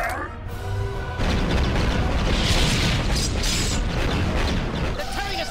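A sustained roar of booming cannon blasts and explosions in a Star Wars General Grievous space battle video game, dense and loud, with a voice briefly heard at the start.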